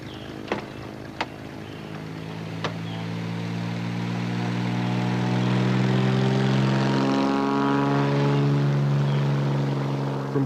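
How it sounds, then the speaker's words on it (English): A propeller aircraft drones steadily, its engine tone swelling louder and nearer over the stretch, with a few sharp clicks early on and no voices. "Julianne was flown to the Albert Schweitzer Hospital in Pucallpa."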